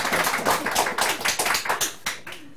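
Several people clap hands during a Korean political talk show, a burst of sharp irregular claps that thins out and fades toward the end, with no one speaking over it.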